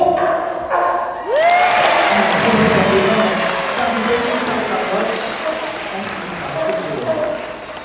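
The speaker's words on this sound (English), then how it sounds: "give him a big round of applause for me" An audience at a sea lion display at Knowsley Safari Park bursts into loud, sustained applause and cheering after a brief exclamation, and the clapping holds steady and then slowly eases.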